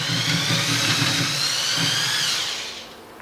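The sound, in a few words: drilling through bicycle rim bed with 10mm drill bit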